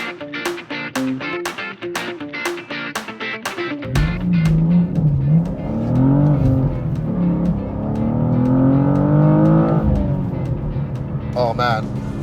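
A 2024 BMW M2 Coupe accelerating hard, the engine rising and climbing through revs with a loud, rasping exhaust note after a stretch of rhythmic ticking, with a voice speaking over the start.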